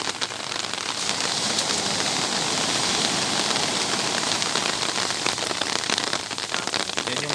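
Heavy rain pours steadily by the sea, a dense, continuous hiss of drops drumming on surfaces with no letup and no voices.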